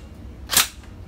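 A single short, sharp snap from a Tokyo Marui airsoft gun firing, close and crisp against a quiet indoor background.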